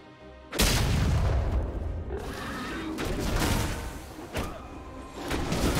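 Turret being destroyed in League of Legends: a sudden loud boom that opens into a sustained crashing, rumbling roar with further thuds layered in, continuing to the end.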